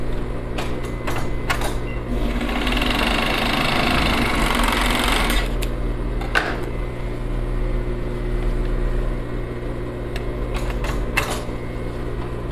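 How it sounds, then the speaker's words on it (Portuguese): An overlock sewing machine finishing the shoulder and back seams of a V-neck blouse runs in steady bursts, a close, continuous mechanical whir with short stops and restarts. "agora na máquina de overlock, que é uma máquina de acabamento, a gente vai fazer o acabamento da parte dos ombros e das costas"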